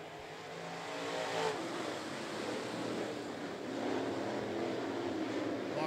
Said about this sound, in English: Eight cars, 10 laps, green flags out.